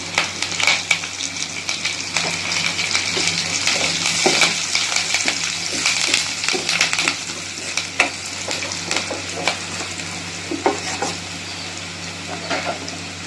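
Curry leaves crackle and sizzle in hot oil with fried garlic while wild greens thokku cooks, a dense steady frying hiss with sharp pops and occasional stirring scrapes throughout, no voices.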